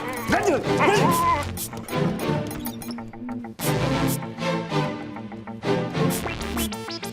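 A dog barks and yips repeatedly in a tense comedy scene, loud and close, with whimpering and a shattering crash mixed in while someone shouts over it in bursts.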